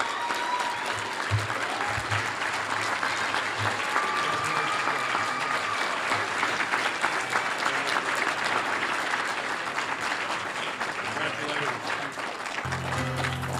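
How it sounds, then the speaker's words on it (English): Sustained audience applause fills a high school football awards ceremony honoring state player of the year honorees, steady and loud throughout with crowd noise and faint voices underneath. "So if we could give these guys, again, another round of applause."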